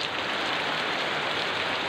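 Heavy, sudden rain pours steadily over an outdoor fish pond, forming a dense, continuous roar with no pauses and no voices.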